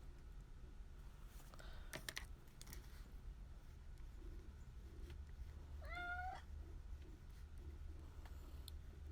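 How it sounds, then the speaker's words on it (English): A cat lets out a single rising meow partway through, faint against steady background hum and a few sharp clicks. "My cat's meowing over here."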